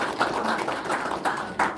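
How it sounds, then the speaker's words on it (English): Crowd applauding Eagle Scouts of Troop 1 at a city government meeting, a steady round of clapping that holds at an even level for a couple of seconds. "I think they get a round of applause for that."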